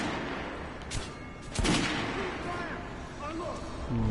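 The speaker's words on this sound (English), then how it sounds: "Vai-me consumir muita munição de shotgun." Shotgun blasts in the video game Metro: Last Light, two booming shots a little over half a second apart standing out above a dense background of game noise and rumble.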